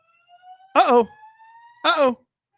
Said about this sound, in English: we have a fire alarm in our building